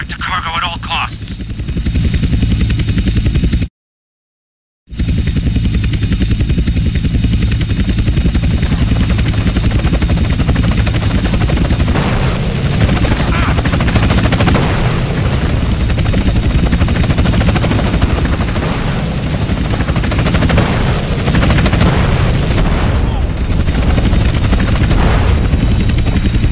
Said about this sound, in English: Two agency choppers coming in on an intercept.